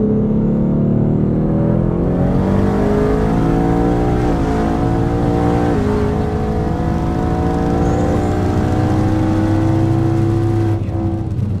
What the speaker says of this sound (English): This time we'll do a little bit of a 4th gear pull,